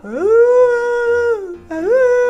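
A human voice imitating a whale, two long drawn-out tonal moans that rise and hold, loud and close with a short break between them.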